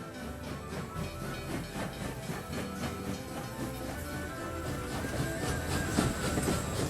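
A train on the Hijaz Railway rolls steadily along the track, a dense, loud rumble with rhythmic clatter and hiss that holds evenly throughout.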